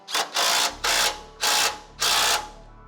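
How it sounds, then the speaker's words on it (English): A torque wrench ratchets a 15 mm hex head bolt on a rock slider bracket of a Rivian R1T, giving four close, loud bursts of rapid clicking with short pauses between and no talking. "We're gonna go ahead and torque this 15 millimeter hex head bolt"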